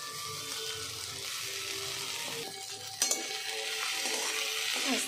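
Maggi noodles with fried egg sizzle in a pan while being stirred, a steady close frying hiss with scraping stirs and a couple of sharp clinks of utensil against the pan partway through, with no talking.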